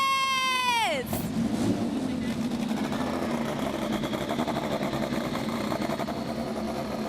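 INDY NXT race car engines firing up on an oval track, a dense, continuous mechanical drone of several engines idling and revving together, following a rising announcer's shout.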